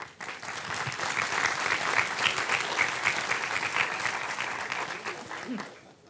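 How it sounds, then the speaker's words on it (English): Audience applause at a Learn To Swim conference opening address: a large hall of steady, blended clapping that swells quickly, holds for several seconds and tapers off near the end. "So another round of applause for these people."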